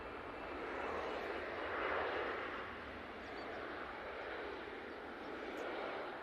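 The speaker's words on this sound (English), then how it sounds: "Etihad just landed" An Etihad airliner rolls out after landing at Manchester Airport, a faint, distant, steady jet rumble and rushing roar with gentle swells, no voices over it.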